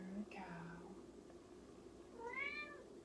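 A house cat meows twice, a short call followed by a longer rising one, faint and close in a quiet room, with soft speech-like sounds around it.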